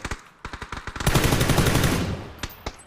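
Gunfire in the battle royale game PUBG: a run of sharp single shots leads into a loud, dense burst of automatic fire that lasts about a second, then fades, followed by two more isolated cracks.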